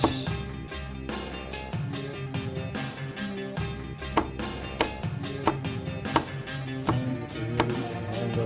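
Teruyasu Fujiwara Denka nakiri knife slicing through a chili pepper on a board, a run of crisp chops and taps at an uneven pace, close and fairly clear, sitting over a steady low background.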